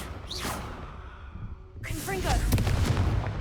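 The Confringo explosion spell in the Hogwarts Legacy video game is cast twice: a quick whoosh comes first, then a louder blast rolls into crackling booms that fade out, with a voice briefly heard around the casts.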